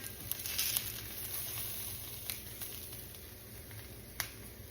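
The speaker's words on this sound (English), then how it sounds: "I got those mushrooms in there, and they went sizzled everywhere." Mushrooms sizzle in a frying pan with a faint, soft hiss. Occasional sharp pops and crackles stand out, and no voice is heard.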